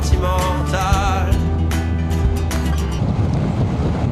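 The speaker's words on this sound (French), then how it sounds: "On est en ASMR, bruit du vent." Steady roaring wind buffeting from riding a 2002 Kawasaki ZX-6R sport motorcycle, loud and continuous over the low engine drone, with some faint tonal whine and background music.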